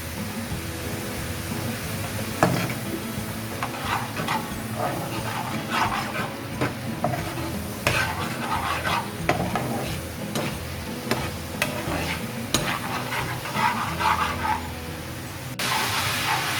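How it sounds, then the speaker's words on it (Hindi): Chopped ginger tipped into lentils frying for maash ki daal, followed by ongoing close stirring scrapes and clinks over a soft steady sizzle. "यहाँ पे मैंने जोलियन में कटी हुई अदरक भी ले ली है और ये भी मैं इसके अंदर डाल दूँगी"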